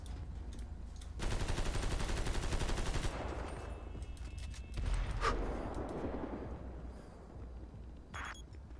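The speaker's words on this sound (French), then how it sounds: "Je vais tirer dessus encore." Rapid automatic gunfire in GTA roleplay: a dense burst of shots for about two seconds, followed by scattered single reports and sharp impacts fading into a quieter backdrop.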